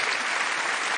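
A studio audience at a hypnosis show applauds, a dense, continuous wash of clapping heard alone throughout.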